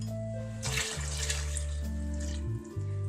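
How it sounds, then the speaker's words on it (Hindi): Water poured over rice for black chana pulao, two bowls' worth, giving a short splashing gush under steady background music, fairly close, with no talk. "पानी हम उससे डबल यानी 2 बाउल्स डाल देंगे"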